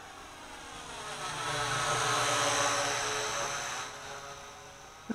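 A Syma X8C Venture quadcopter drone flying outdoors at full forward pitch gives a continuous buzzing motor whine that rises and falls gently as it passes, heard alone at moderate distance.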